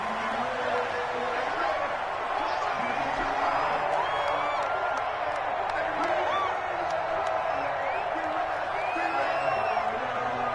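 A packed football stadium crowd roars before a Washington versus Dallas Cowboys game, a constant loud wall of cheering and hubbub with scattered whoops over it. A commentator's voice runs through the noise.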